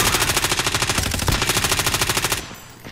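Rapid, loud machine gun fire in a video game, a fast, even burst of shots at close range lasting over two seconds before cutting off abruptly, with no speech.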